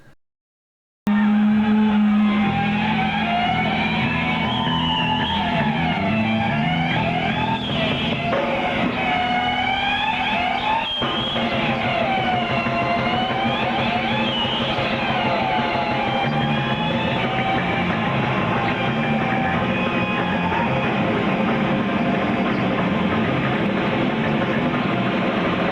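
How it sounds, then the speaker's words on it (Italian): Guitar feedback from a live 1990 Seattle show howls and wavers like a siren over loud, dense distorted band noise, sustained and continuous. "creò un effetto di feedback simile a una sirena"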